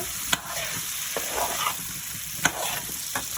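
Butter sizzles in a frying pan, a steady close hiss with a few sharp utensil taps and scrapes, no voices.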